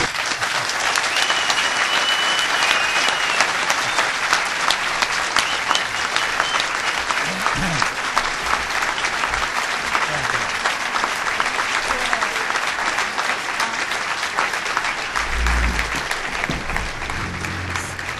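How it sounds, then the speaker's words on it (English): A large audience gives sustained, dense applause at an evening talk event, a steady loud wash of clapping lasting the whole stretch without a break. "Oh, so another round of applause."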